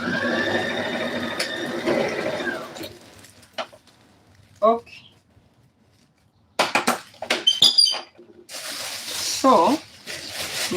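A sewing machine runs in a steady, whirring burst while stitching a peplum blouse, then stops as a person talks over light handling noises.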